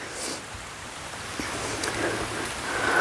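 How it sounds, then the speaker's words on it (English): Light rain patters steadily in a home garden yard, a soft, even hiss with occasional louder drops close by. "it is just raining and my phone is getting wet"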